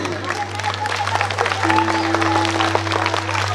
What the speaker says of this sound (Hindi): ताली बजेगी।